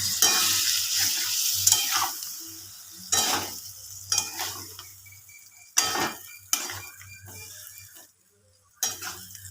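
Potol paneer sizzles in a hot pan after a little water is added, with a spatula scraping and stirring in short bursts and a steady low hum underneath, the sizzle fading toward the end.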